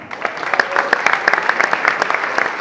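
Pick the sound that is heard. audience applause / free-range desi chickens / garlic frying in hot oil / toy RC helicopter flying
audience applause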